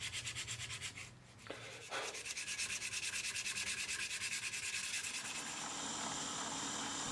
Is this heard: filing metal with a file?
yes